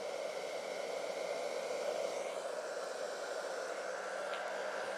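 A hair dryer set to hot, aimed at alcohol ink drying on a 36x48 canvas, blows a steady, even whoosh for the whole stretch, close by and with no one speaking.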